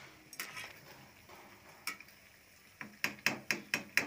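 A spoon stirs and scrapes bread pieces in a metal pan over a low gas flame, with scattered clinks and then a quick run of six sharp, evenly spaced taps against the pan at the end.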